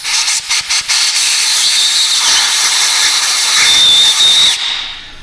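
Compressed air hisses hard from a blow nozzle, flushing aluminum chips out of a bolt hole in a loud, steady blast that opens with a few short bursts and runs about five seconds before cutting off.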